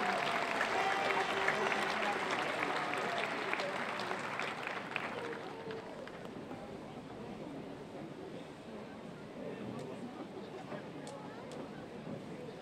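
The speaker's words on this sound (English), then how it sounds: "Another round of applause for a sweet reminder." Crowd applause at a 4th of July parade, strong at first and fading after a few seconds into outdoor crowd murmur and a distant voice.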